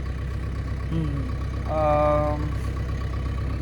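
A farm tractor engine idles steadily and close throughout, a low continuous rumble that swells slightly near the middle, with tonal sounds like a voice or horn briefly over it.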